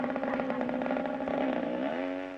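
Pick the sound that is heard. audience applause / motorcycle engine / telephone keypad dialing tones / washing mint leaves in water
motorcycle engine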